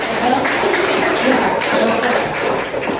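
A university class applauds a presenting student group, producing a steady, dense wash of many hands clapping at once that stays even and fairly loud throughout, with faint voices beneath.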